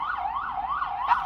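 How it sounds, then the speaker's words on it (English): An emergency vehicle siren wails outside, a loud, close, steady rising-and-falling tone sweeping in regular cycles with no voices over it. "the sirens and all that was just crazy"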